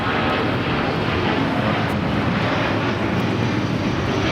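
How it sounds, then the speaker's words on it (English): A Delta Boeing 757-300 takes off to Atlanta from the south side of Los Angeles International Airport, its engines giving a steady, loud broadband roar that holds throughout without talk. "Delta 757-300 taking off here on the south side."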